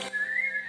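A single short, clear whistle rises slightly in pitch and holds briefly, close and fairly loud.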